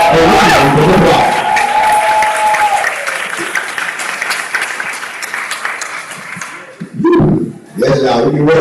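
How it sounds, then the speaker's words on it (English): An audience at a graduation ceremony applauds the graduates, with loud sustained clapping and some cheering that begins under a voice and runs for several seconds before talk resumes. "That's a round of applause."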